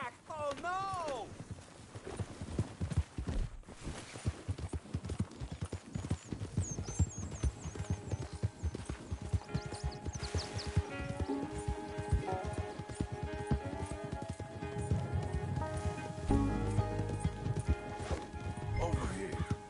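Horse hooves clip-clop steadily in a Western video game, with a brief whinny near the start, under continuous talk and background music.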